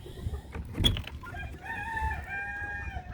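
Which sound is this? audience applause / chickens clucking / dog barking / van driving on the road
chickens clucking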